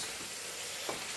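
Onion sizzles in a pan as a base for a jumbo prawn and potato dish, a soft, steady crackling hiss with one small pop, heard alone at low volume.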